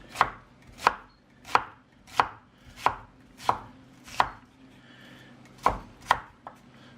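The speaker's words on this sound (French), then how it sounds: "on va tailler l'oignon à peu près de la même taille" A knife chops an onion on a board in a steady run of crisp, close strikes, about nine evenly spaced cuts with a brief pause near the end, no talking.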